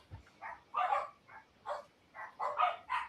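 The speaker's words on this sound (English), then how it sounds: "my dogs are going apeshit right now" Several dogs bark in short, repeated bursts at a house with an open door, fairly faint and somewhat distant, with no talking over them.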